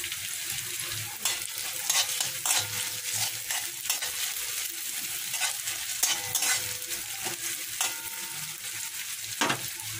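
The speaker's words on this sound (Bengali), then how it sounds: "এবারে পুরো মশলাটাকে আমি ভালো করে ভেজে নেব।" Ground spices with a pinch of asafoetida fry on a low flame for an aloo paratha filling, a soft steady sizzle broken by repeated sharp scrapes and taps of a spatula stirring the pan.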